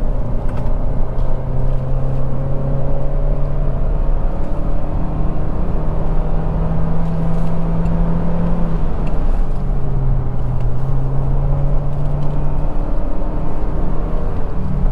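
A SsangYong Torres SUV accelerating on a test drive, a steady interior engine and road hum with rising and falling tones as it gathers speed, continuous and fairly quiet with no talk.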